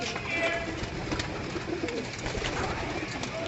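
Kept pigeons coo softly and steadily, faint and somewhat distant, under a constant background hiss.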